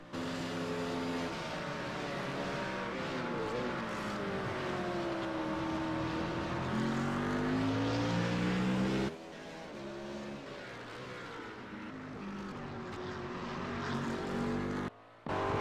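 McLaren GT3 race car engine in iRacing at COTA, loud and close, revving up through gears with rising and falling pitch sweeps, a brief cut in the middle and a sharp dropout near the end.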